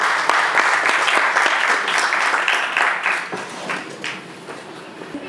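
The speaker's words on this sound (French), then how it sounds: "Merci d'applaudir très fort pour Carole Bessa et" Loud, sustained audience applause fills a conference hall, a dense wash of many hands clapping that holds steady and then gradually thins toward the end, with no talk over it.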